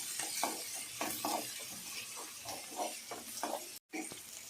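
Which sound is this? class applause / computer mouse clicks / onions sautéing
onions sautéing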